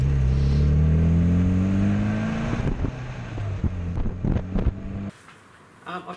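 Mini Moke with a roughly 1400cc engine tuned slightly above factory output runs with a steady low drone that rises in pitch, then breaks into uneven bursts before dropping off sharply near the end.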